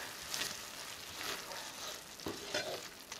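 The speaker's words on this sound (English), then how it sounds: "Go ahead and add your cilantro. Give it a quick stir." Shrimp with fresh cilantro being stirred in a frying pan, a steady broadband sizzle with a few brief scraping strokes of the utensil, close and moderately loud, no voices.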